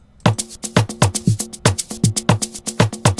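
In a 3-step beat made in FL Studio, a peg percussion loop starts abruptly and repeats as a brisk, even train of deep thuds topped with bright clicky transients, prominent with no talking.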